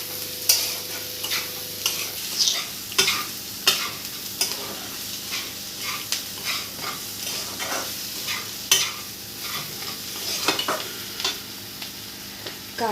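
Prawn curry masala with softened onions, turmeric and chili powder sizzles in a pan while a spoon scrapes through it in repeated, uneven strokes, close and clear over a constant low fry.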